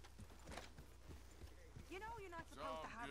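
Horse hooves clip-clopping in the Western game Red Dead Redemption 2, a steady series of close hoof knocks at walking pace, with voices talking over them partway through.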